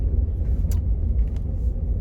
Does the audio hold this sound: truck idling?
yes